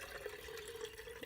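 Water poured from a container into a jar over a basil cutting, a faint, steady trickling gurgle close by for just over a second, without any talk.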